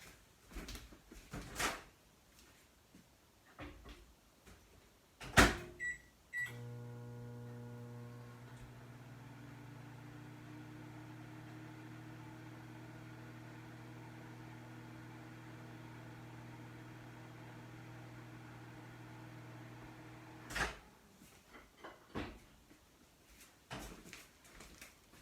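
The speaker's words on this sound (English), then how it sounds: "I'm going to pop it back in the microwave for just a few seconds." A microwave oven heating melt-and-pour soap base hums steadily for about fourteen seconds between a door latch clack and the end beep, quiet and close with a few soft handling sounds around it.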